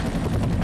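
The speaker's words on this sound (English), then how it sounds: "They're gonna get dropped off from the helicopter in slow motion." Helicopter in the video game F.E.A.R., a steady close rotor and engine drone holding at an even level throughout without a break.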